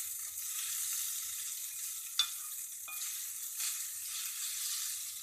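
Aval upma, flattened rice, sizzles and fries in a pan with a steady crackle, broken by a couple of sharp scrapes of stirring close by.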